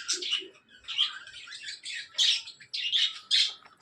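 Pet budgies squawk and chirp in quick, shrill bursts close by, calls overlapping in an uneven, busy rhythm.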